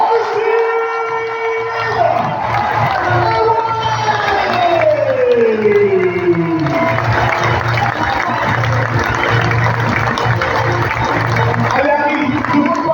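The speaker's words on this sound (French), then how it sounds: "Donnez d'applaudissements pour la Canada" A handball arena crowd cheers and applauds loudly for a goalkeeper reaching 200 saves, a sustained roar with an announcer's voice over the noise.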